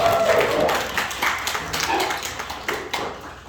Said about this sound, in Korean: 같이 한번 박수로 맞이할까요?